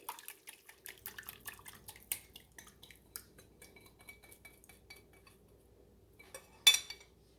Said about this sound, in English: I'm going to mix my wet ingredients in with this